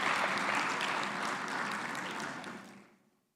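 Audience applause at an education sector conference fills the room with dense, continuous clapping that gradually thins and fades out near the end.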